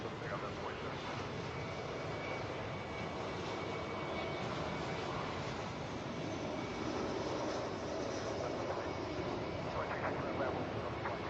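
Jet airliner taking off from a runway at Atlanta airport, a steady broad roar of engines that holds loud throughout, with radio chatter faintly under it.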